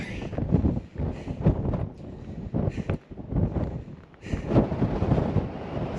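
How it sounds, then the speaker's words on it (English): Gusty wind on a rocky mountain trail at South Mountain near Phoenix, rumbling buffets against the microphone that surge and ease in several uneven waves. "It's windy up here."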